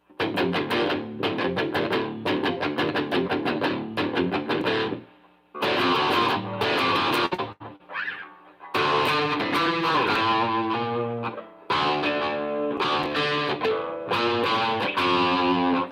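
Loud electric guitar with distortion fully cranked plays chugging, rhythmic bursts in several phrases, cutting off abruptly between them with short silences.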